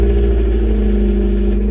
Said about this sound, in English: our Miata was manual swapped and has an aftermarket exhaust that I think sounds pretty cool